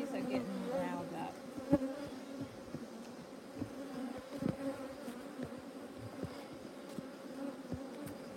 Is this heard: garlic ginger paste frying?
no